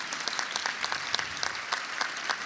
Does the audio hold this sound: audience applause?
yes